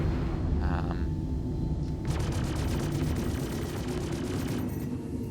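Ship weapons firing in a space battle against XenoThreat in the video game Star Citizen: a rapid stream of repeating shots over a deep, rumbling background, steady and moderately loud, with no talking.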